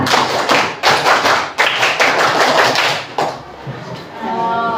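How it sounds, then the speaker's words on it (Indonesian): A school class claps out the rhythmic Pramuka scout clap together, a quick run of sharp, close hand strikes in patterned bursts that ends in a brief pause. "Satu kali tepuk pramuka."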